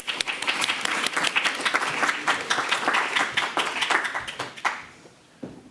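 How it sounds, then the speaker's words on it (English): Audience applause for the speakers at a panel talk on China, EU and technology standards, dense steady clapping from a full room that fades out near the end. "Give us a warm round of applause for our speakers"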